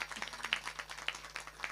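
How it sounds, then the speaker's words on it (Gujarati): Audience applause at a devotional satsang gathering honoring a guru and his family, heard as soft, scattered clapping in brief, fairly quiet pulses that rise and fall over a couple of seconds. "એકવાર જબરજસ્ત તાળીઓથી આપણે વધાવીએ"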